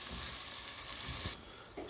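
Tomato and chilli paste hits hot oil in a tadka for aloo baingan, giving a steady, close sizzle and spatter with a brief stirring scrape, no voices over it.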